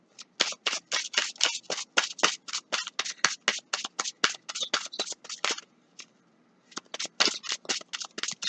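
Tarot cards are shuffled close up in quick rhythmic bursts of crisp riffling slaps, a long steady run, a brief pause, then more shuffling, with no talking.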